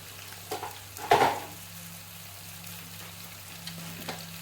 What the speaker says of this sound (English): I'm gonna just fry these in this really hot oil